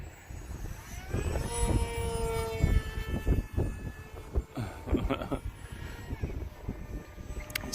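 Hobbyzone Aeroscout S 1.1m ready-to-fly RC plane flying outdoors in wind, a buzzing electric motor whine rising and falling as it passes, with gusty wind noise throughout.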